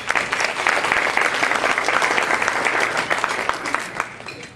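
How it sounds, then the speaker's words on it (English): Attendees at an annual African American conference applaud steadily and fairly loudly for several seconds, a thick, even wash of clapping from a large room. "let's give yourselves a round of applause for being here."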